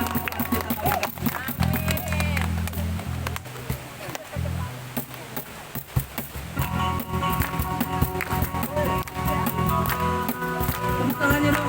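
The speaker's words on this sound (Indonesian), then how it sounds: "Kita bertepuk tangan kepada Tuhan," Church congregation clapping their hands in worship, a dense run of rapid claps from many people mixed with crowd noise and music, with a voice speaking over it.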